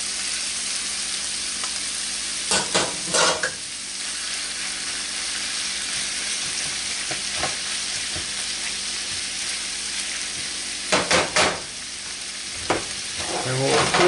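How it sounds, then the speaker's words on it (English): Lobster, shrimp and scallops fry in a pan for a seafood bisque, giving a loud, steady sizzle with a few clattering bursts as they are stirred. "Start with my lobster and my shrimp. Add my scallops to the mix too."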